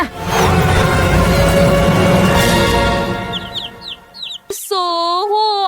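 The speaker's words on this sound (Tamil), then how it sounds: "கோழி அங்கே முட்டை உடைக்கிறது." Chicken clucking rises near the end of a short stretch, loud and close, following a dense, busy mix of background sound with a brief swish.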